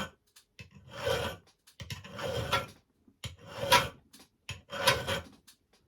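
An axe blade sharpened with a hand file: four distinct rasping strokes in a slow, even rhythm, close and clear, separated by brief pauses and small clicks.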